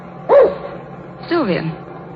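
Dog barking at cows in a 1938 radio drama, two sharp barks about a second apart, close and loud, with a low background hum.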